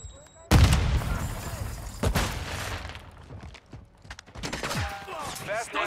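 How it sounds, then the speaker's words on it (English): Semtex grenade blast in a video-game firefight: a sudden loud explosion lands early, followed by continuing bursts of gunfire and further sharp shots, with a voice calling out near the end. "Throwing Semtex!"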